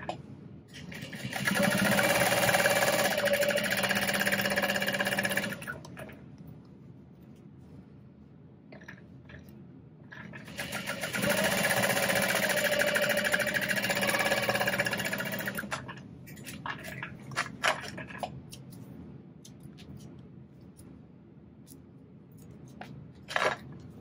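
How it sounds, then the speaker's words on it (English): A sewing machine top stitches through the strap pieces of a small denim backpack, two long runs of close, steady mechanical whirring and needle chatter separated by quiet pauses, followed by scattered clicks and handling noises. "Okay, top stitch through these pieces."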